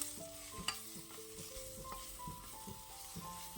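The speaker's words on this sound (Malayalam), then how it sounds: "ഇനി ഇത് വീണ്ടും നല്ലവണ്ണം ഒന്ന് ഇളക്കിയെടുക്കുക." Sliced onions and fresh curry leaves stirred in a pan for egg gravy, with soft irregular scraping and clinks of the spoon over a faint, steady sizzle, close and quiet.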